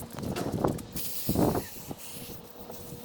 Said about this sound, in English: So I'm going to be lubricating this track with some silicone spray.